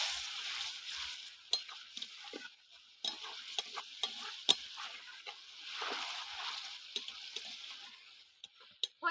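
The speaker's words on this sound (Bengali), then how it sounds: "এবার একটু জল দিয়ে মশলাটাকে ভালো করে কষিয়ে নেব" Spice paste with a splash of water fries and is stirred in a pan, giving a low steady sizzle punctuated by sharp spoon clicks and scrapes at irregular intervals.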